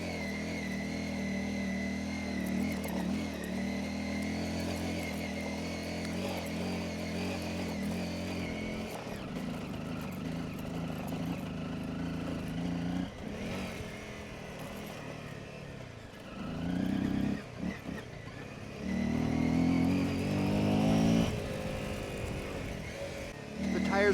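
Adventure motorcycle, an Ibex 450 or Honda CRF250L Rally, shifting down to first gear with the engine note dropping and then climbing again. The engine hums steadily throughout, rises and falls in pitch, and wind rush or voices sit on top of it.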